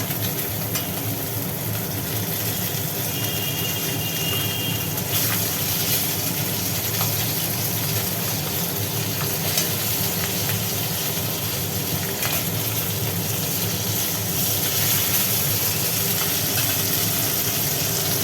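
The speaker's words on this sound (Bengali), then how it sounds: "এপিটটা ভাজা হোক" Fish pieces fry in a pan of hot oil, a steady, dense sizzle that runs continuously and fairly loud, close up, with occasional faint clicks of turning.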